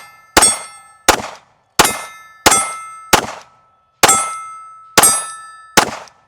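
A Smith & Wesson pistol fired one-handed, eight sharp shots in an uneven rhythm, each followed by a bright ringing clang from steel targets, loud and close with no talk.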